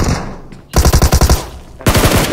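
Bursts of automatic gunfire in a mobile battle royale shooter: a rapid string of about eight loud close shots, a pause, then another fast volley.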